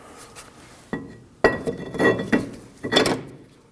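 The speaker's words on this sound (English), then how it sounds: "Reinstall your brake rotor." Metal clanks and scrapes as a brake rotor is fitted back onto the front wheel hub of a 2013-2015 Subaru XV Crosstrek, with several sharp close contacts and a ringing rattle.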